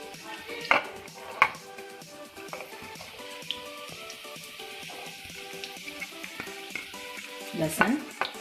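Onions and garlic frying in a little oil in a pan, with a soft sizzle and occasional scrapes and taps of a spoon stirring against the pan.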